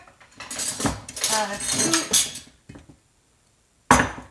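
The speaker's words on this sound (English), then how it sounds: "So we start by mixing the powders. So the flour, sugar," A utensil clinks and scrapes against a bowl while flour and sugar are mixed for crepe batter, several bursts of rattling with brief pauses, then a lone clatter after a short silence.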